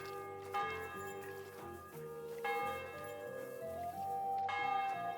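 Church bells ringing inside the medieval world of the video game Kingdom Come: Deliverance II, a steady peal of overlapping tolls that swells slightly louder over a few seconds, heard alone with no voices.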